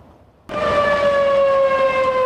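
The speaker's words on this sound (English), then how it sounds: "The sirens have just sounded again in Boulder" Flood warning sirens in Boulder, Colorado during flash flooding, starting abruptly and holding a loud, steady, sustained wail with no voices.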